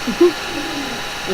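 A bird hoots low and soft a couple of times, a brief call followed by a fainter one, against quiet background noise.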